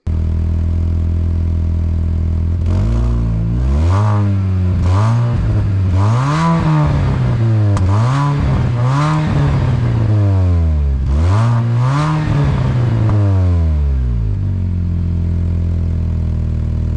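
A Mini Cooper S R53 engine, breathing through an old, broken exhaust, revs repeatedly from idle in a series of loud, close blips of rising and falling pitch, then settles back to idle.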